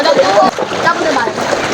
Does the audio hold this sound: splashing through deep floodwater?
yes